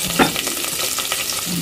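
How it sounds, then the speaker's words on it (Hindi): Onion frying in ghee with cumin seeds and chili in a home kitchen pan, a steady close hiss with brief stirring scrapes and a louder clatter near the start, no talking. "प्याज को मैं भून लूंगी।"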